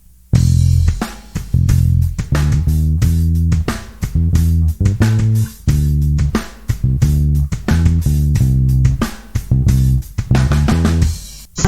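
Electric bass plays the first four bars of the outro of a song, a steady groove of close, loud, clearly articulated low notes with brief gaps between phrases, with no voices.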